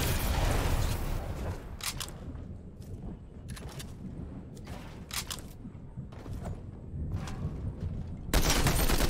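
A Combat Assault Rifle fires in a video game in rapid bursts of sharp, loud shots, each cluster separated by short pauses, with a heavier blast at the very end.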